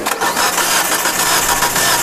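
2008 Suzuki Alto engine with a misfire, turning over with a loud, harsh, steady mechanical churn and rapid rhythmic pulsing heard up close, with no talking.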